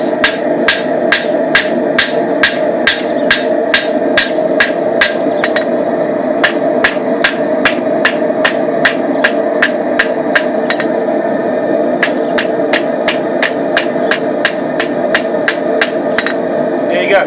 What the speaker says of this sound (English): Then we start forging it out. Evenly on both sides.